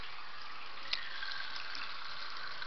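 Water from a kitchen tap runs steadily into a pot of noodles at a sink, a continuous hiss with a brief clink near the start, no voices.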